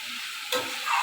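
Spice paste for cabbage curry sautéing in oil, giving a steady hissing sizzle, with a brief stirring scrape about halfway through the short stretch.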